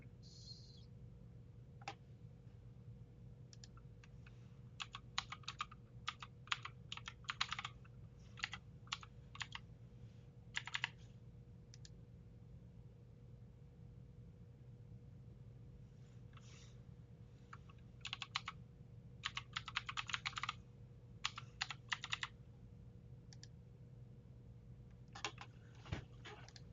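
Keys clatter on a computer keyboard as a password is typed, quiet bursts of rapid clicks separated by pauses against a steady low hum.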